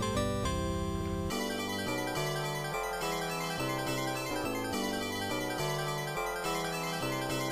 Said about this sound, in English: Good old Sega Genesis music.